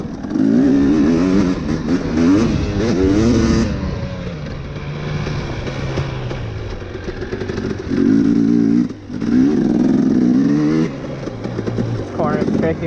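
Honda CRF150R dirt bike ridden on a track, engine revving hard in rising and falling surges with brief drops between pulls, loud and close, with a voice talking over it at times.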